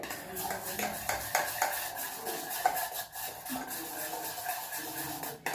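Spoon stirring handvo batter in a metal bowl after soda is mixed in, soft scraping strokes and clinks recurring irregularly at close range, fairly quiet.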